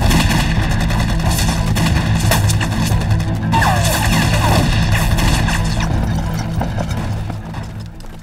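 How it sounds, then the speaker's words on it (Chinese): Battle gunfire from a Chinese war film about fighting the Japanese army, with loud, dense volleys of rifle shots crackling continuously and fading slightly toward the end. "枪声很激烈，听起来不只有几个人"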